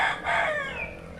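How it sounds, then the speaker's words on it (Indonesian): A rooster crows once, close and clear, in a hillside village near a tea plantation during rain, with a soft wash of rainfall beneath it. "Ayam-ayam juga masih tetap berkokok dan burung-burung berkicau merdu di tengah hujan yang masih mengguyur."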